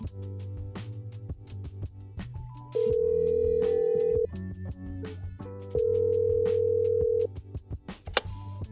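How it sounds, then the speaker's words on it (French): A telephone rings before an answering machine picks up: two long, steady ring tones sound one after another over busy background music, with no voices. "Vous êtes bien sur le répondeur de Madame B."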